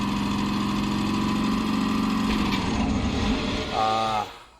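A steady engine running in an escape game, a loud idling drone that revs up briefly near the end before dropping away.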